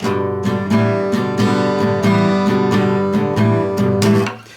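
Steady acoustic guitar strumming repeats a bluesy chord shape with a small changing note, loud and close, ending as the strings are muted.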